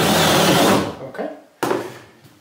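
A jigsaw power tool runs loudly during metal electrical box installation, a dense buzzing cut that stops, then two shorter bursts follow after brief pauses.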